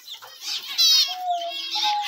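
A female zebra finch (mandarin) kept as a breeding pair with chicks gives a string of short, nasal, harmonic calls, fairly close and moderately loud against a quiet background.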